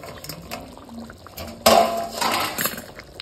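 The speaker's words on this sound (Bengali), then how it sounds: "এবার দেখি ঢাকাটা খুলে সেদ্ধ হয়েছে কিনা" A lid comes off a cooking pot of simmering fish curry with taro and potato, giving a sudden metallic clink and scrape, then a wash of bubbling, hissing steam from the open pot, fairly close, with no talk.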